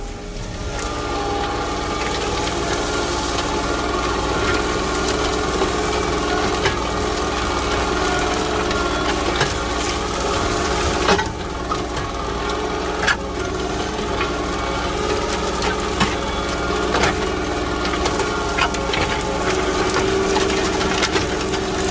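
Tractor pulling a 3-point hitch disc through soddy, hilly ground that was recently grass and brush, a steady continuous engine drone with rattling implement noise throughout and no talking.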